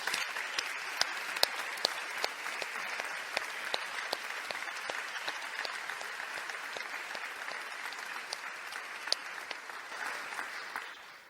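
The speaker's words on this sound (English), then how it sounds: "Please join me in giving Uta Schwarting and Linda Smith a huge round of applause" A church audience gives a steady round of applause for a piano duo, dense clapping with sharp individual claps poking out, sustained for about eleven seconds before tapering off at the end.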